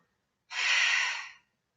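A single long breath, drawn smoothly in and out during a Pilates exercise, close and fairly soft, rising and fading over about a second in otherwise silent surroundings.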